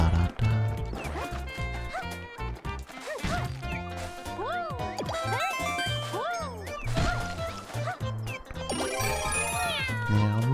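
A cat character in Super Mario 3D World meows repeatedly in short, bright calls over busy game music and sound effects.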